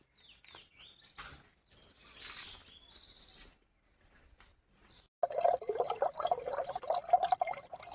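Coconut water drips and trickles from a freshly peeled coconut in a home kitchen, with faint scattered taps followed by a steady, close trickle of liquid that gets louder toward the end.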